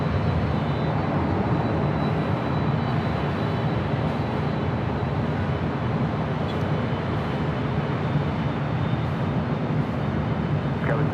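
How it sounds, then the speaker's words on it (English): An airliner departing Los Angeles International Airport for Frankfurt, a broad continuous engine roar at a distance, steady throughout with a low rumble and no speech. "Flight 2087 heading back to Frankfurt there in Deutschland"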